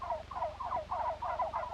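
A flock of young bronze turkeys on a farm gobbling in quick, rippling bursts, one call after another, close and fairly loud with no talk.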